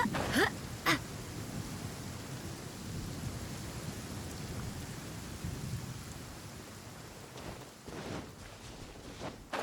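Steady rain pours in the video game Genshin Impact, with sharp thunder cracks near the start and rolling rumbles later, continuous and fairly loud throughout with no talking.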